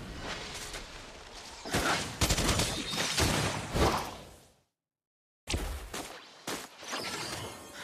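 Clint's gunfire in Mobile Legends: Bang Bang, loud bursts of rapid game shots and whooshes in dense clusters, cut by a sudden second of silence before another volley resumes.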